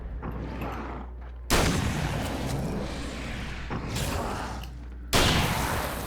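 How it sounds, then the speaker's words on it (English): A flash grenade in the video game Alan Wake's American Nightmare: loud, dense explosive bursts that fill the mix, with sharp hits at the start and near the end and a rumbling wash between them. "Flash grenade."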